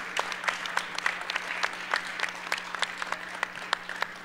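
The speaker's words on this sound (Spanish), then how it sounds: "No es para menos este aplauso" Applause at a weekly government assembly in Mexico after a diving gold medal is mentioned, with close, distinct hand claps in a quick irregular patter at a moderate level.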